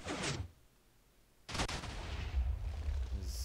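Cannon shot in Minecraft: a sharp blast, a short near-silence, then a second heavy boom followed by lingering rumble and debris-like crackle.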